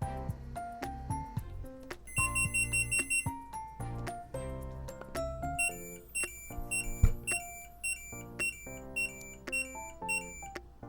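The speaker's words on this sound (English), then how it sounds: "To me, the beep sounds a lot different than it did in the original ones. This beep doesn't sound as harsh" Electronic beeps from a Galaxy Tamagotchi virtual pet toy play as short melodic tone sequences and chirps, clear and close with brief gaps, no talking.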